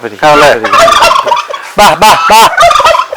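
A turkey on a fish farm gobbles in loud, close, rapid rattling bursts, calling repeatedly with short pauses between calls.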